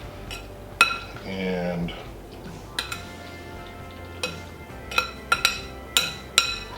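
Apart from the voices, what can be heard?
spoon flattening macaroni salad in bowl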